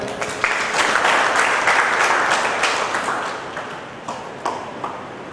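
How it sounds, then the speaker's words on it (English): Audience applause after an announcement at a public event, a dense burst of many hands clapping that starts loud and gradually thins out over several seconds, with no talking. "We may have a clap for it."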